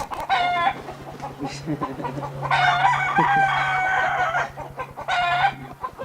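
Chickens perched in trees in Puerto Rico call repeatedly nearby, with drawn-out crowing bursts and clucks rising and falling over a low steady background hum.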